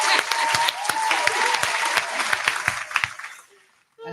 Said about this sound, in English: So yeah, I'm clapping again.